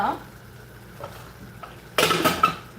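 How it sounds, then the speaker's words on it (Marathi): A metal lid clatters onto a cooking pot of simmering vegetable bhaji on a home stove, a short bright clang near the end after light kitchen clinks, with faint speech in the background. "याला झाकण लावते"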